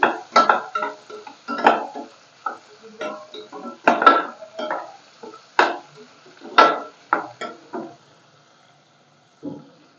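Raw mango pieces being sautéed in a pan with a fenugreek and asafoetida tempering, the spatula scraping and clinking against the metal in quick, irregular bursts that fade out near the end.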